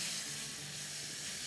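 Shrimp hit a hot pan with garlic and give off a steady, loud sizzle, a continuous bright hiss that holds without a break.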